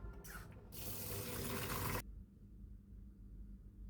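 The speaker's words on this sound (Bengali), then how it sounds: "চালটা ধুয়ে নিব।" Water runs from a kitchen tap into a pot as rice is rinsed before cooking, a loud, steady splashing rush for about two seconds that cuts off abruptly, leaving a quiet room.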